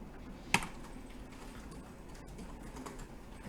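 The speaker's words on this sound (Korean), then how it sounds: "키보드 탭 키를 누르면" A single Tab key press on a computer keyboard, one short crisp click standing alone against quiet room hiss.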